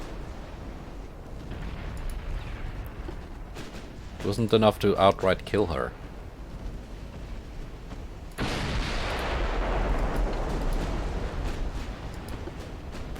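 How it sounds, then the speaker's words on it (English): Booming ammunition explosions aboard a warship in a naval battle video game, a low rumbling blast followed by sustained crackling detonation noise, with someone talking over part of it. "I think she suffered an ammo explosion"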